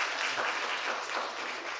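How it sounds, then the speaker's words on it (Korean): A church congregation at a Wednesday evening service claps steadily, welcoming a guest preacher with an even wash of applause throughout the short stretch. "성사님 나올 때 박수로 우리 맞으십시다."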